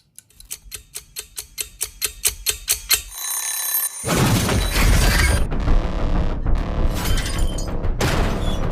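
An alarm clock rings in a tense scene from the film A Quiet Place: a rapid series of sharp metallic rings repeats for about three seconds, then cuts to a dense, loud burst of crashing and rumbling noise.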